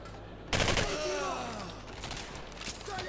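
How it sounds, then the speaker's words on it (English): Gunfire from the video game Singularity rattles in a dense, loud burst of rapid shots that runs on continuously after a sudden start, with game sounds layered over it. "shot me in the head and he kept shooting"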